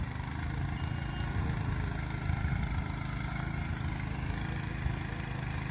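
A petrol power tiller works a field, its small engine running in a steady, even drone throughout, with no speech.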